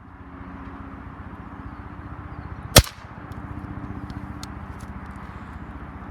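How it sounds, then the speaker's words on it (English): A single sharp crack from a Crosman 2240 .22 caliber CO2 air pistol, a bolt-action single-shot pellet gun, fired once over steady low background hum. "let's go ahead and shoot a few shots with this air pistol"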